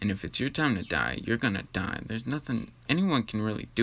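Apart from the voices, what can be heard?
No everyday noise stands out behind the speech.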